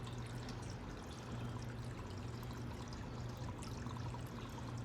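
Water drains down through a worm-bed aquaponic system, a steady close trickle and pour running continuously without a break.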